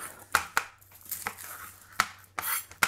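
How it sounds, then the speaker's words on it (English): A kitchen knife slicing an onion thinly on a chopping board, giving several sharp, close cuts at uneven intervals, fairly quiet and with no talking. "Top and tail it, we're just going to slice this. Thinly slice it, get that skin off."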